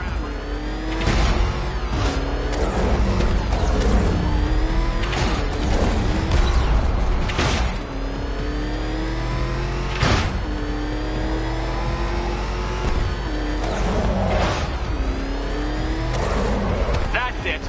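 Car engine revving in the Batman Arkham Knight video game, a loud continuous mid-pitched roar with repeated rising and falling revs and sharp bursts, heard under speech.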